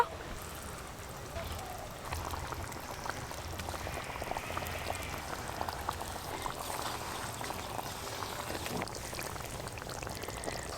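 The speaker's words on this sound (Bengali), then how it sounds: "ঝোল খুব ভালো করে ফুটে গেছে, এবার ভেজে রাখা রোলগুলো একে একে দিয়ে দেব।" Curry gravy for cabbage and egg rolls bubbles at a steady rolling boil, a dense even gurgle and pop that holds at a constant level throughout.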